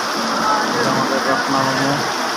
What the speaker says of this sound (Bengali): প্রচণ্ড পরিমাণে বৃষ্টি হচ্ছে